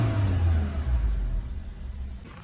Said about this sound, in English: And it started up all right.